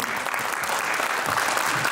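Dense, steady applause from the audience at a children's concert, the 2025 Chinchraka recital, filling the whole moment without a break.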